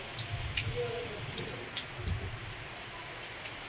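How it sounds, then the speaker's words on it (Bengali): Heavy, continuous rain falls steadily with a soft, even hiss and scattered droplet taps, fairly quiet and unbroken throughout. "আজকে সকাল থেকে প্রচুর বৃষ্টি আর অনবরত বৃষ্টি হয়েই যাচ্ছে"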